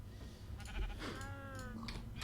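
Sheep bleating in the Minecraft video game, a short, wavering animal cry sounding alone at low level against faint background noise.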